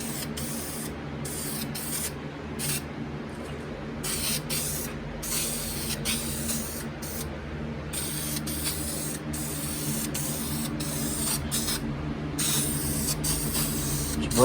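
Brand-new spray can laying primer onto a 1990 Mustang GT quarter window, a continuous close hiss with small pulsing sputters as the nozzle acts up.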